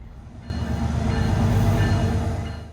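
A GO commuter train rumbles past at close range near Georgetown, Ontario, its heavy low roar building after a half-second of quieter hum, then holding steady with a faint rhythmic rail clatter.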